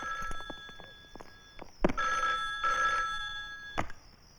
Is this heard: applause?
no